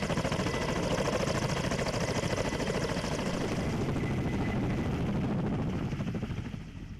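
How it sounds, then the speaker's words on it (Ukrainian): A Ukrainian naval aviation military helicopter thumps with a rapid, steady rotor chop and engine whine close by, holding loud before fading slightly at the end. "залучався вертоліт морської авіації українських військово-морських сил"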